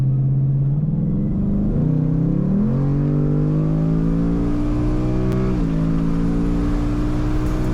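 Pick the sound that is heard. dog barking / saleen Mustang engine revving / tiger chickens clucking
saleen Mustang engine revving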